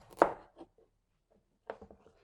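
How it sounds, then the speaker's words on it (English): A knife chops food on a flat cutting board in a community kitchen, with a sharp first chop, a few softer cuts, then a quick run of close chops. "Now we're going to need to chop this up into good chunks, about the same size equally."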